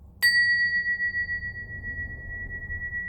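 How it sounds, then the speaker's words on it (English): A single bell is struck once, sharp and clear, and then rings on as a long pure tone that slowly fades over a quiet background. "Here comes a bell. Prepare your ears."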